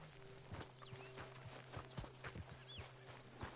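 Hooves clip-clop from a horse in a video game, a string of irregular walking steps close by, with a faint snort and light ambient game sound behind.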